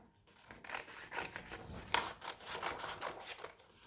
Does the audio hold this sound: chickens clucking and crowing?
no